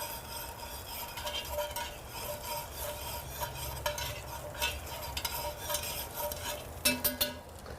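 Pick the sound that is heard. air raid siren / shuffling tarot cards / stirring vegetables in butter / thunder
stirring vegetables in butter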